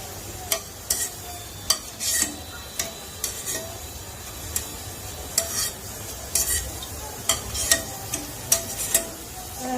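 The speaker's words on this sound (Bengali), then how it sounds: "একবার আমি ভেজে দেখাচ্ছি" Boondi fry in hot oil with a steady sizzle, broken by repeated sharp metallic clinks and scrapes of a ladle stirring in the pan, close and alone without talk.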